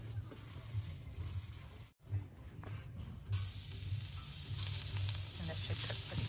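Roast beef sizzles steadily on a hot griddle, a continuous close frying hiss that briefly cuts out and then returns louder and brighter.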